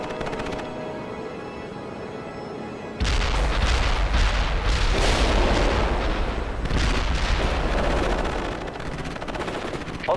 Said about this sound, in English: We need artillery immediately.